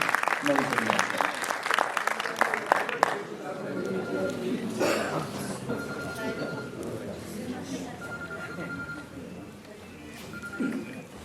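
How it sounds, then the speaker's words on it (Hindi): Audience applause greets a poet taking the stage at a mushaira in Kanpur, a dense burst of clapping for about three seconds that thins into scattered claps and room murmur with occasional coughs. "आप इस्तकबाल कर दें तालियों की गूंज में"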